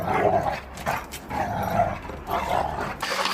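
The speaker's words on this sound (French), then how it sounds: "Donc là, il aboie." A Labrador, annoyed once play with a toy stops, barks and yips in a few rough bursts at close range, with no talking over it.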